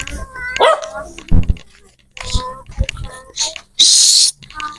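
A dog barks several times in short bursts, close by, mixed with people talking and a brief hiss of noise.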